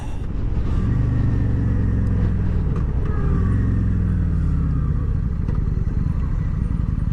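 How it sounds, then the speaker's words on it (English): A motorcycle on the road gives a steady, close engine rumble with a few gentle rises and falls in pitch as it cruises, heard alone without talk. "I love riding my motorcycle."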